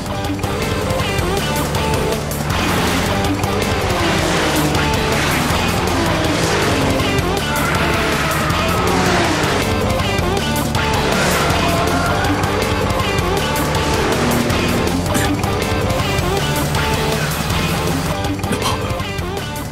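A Nissan Z and a Mazda FC race hard in the Wangan Midnight anime, with a loud, sustained roar of high-revving engines and bursts of tire squeal. The sound stays dense and intense throughout.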